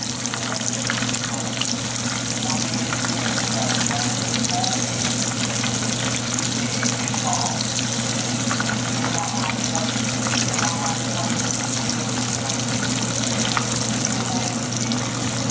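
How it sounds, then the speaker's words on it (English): Fish fries in hot oil while being basted, making a dense, steady, loud sizzle that holds without a break at close range, with no voices. "you want to baste the fish with the hot oil so that it can cook from both sides."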